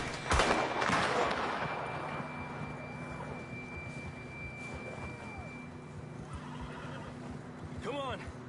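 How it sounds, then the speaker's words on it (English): A horse whinnies sharply near the end, its call rising and falling, over a steady Red Dead Redemption 2 soundscape with faint hoofbeats and people talking. "John was riding that horse when we left Blackwater."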